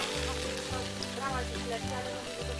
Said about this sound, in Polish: ale już nam ładnie masełko się rozpuszcza